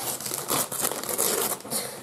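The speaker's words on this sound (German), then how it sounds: "Jetzt muss ich dieses Papier kaputt machen." Wrapping paper is crinkled and torn off a birthday parcel in quick close bursts of rustling and ripping, loud and dry, with no talking.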